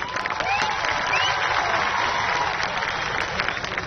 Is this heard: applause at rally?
yes